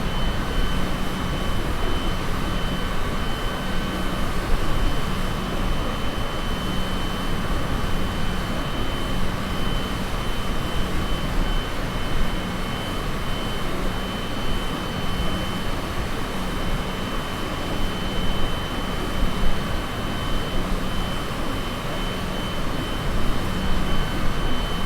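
Steady drone of a Cessna light aircraft engine in flight near Fort Myers, a continuous loud hum and airflow roar that holds even for the whole stretch with no break.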